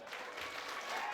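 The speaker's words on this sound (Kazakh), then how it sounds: "Көкеміздің құрметіне бүкіл ағай шапалақ ұрды." A room full of people claps together, a dense, steady patter of applause at moderate distance with no other sounds standing out.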